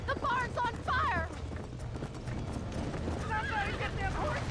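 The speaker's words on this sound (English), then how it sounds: "Somebody get them horses out. They're trapped in there." In the Red Dead Redemption video game, horses trapped in a burning barn neigh and whinny in shrill repeated bursts over hoof clatter and a low rumbling fire, with voices shouting in between.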